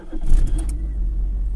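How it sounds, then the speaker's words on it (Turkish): Car engine started by a keyless start-stop remote, a brief loud cranking burst that catches and settles into a steady low idle rumble, close by with no talking. "Evet, aracımızı çalıştırdı."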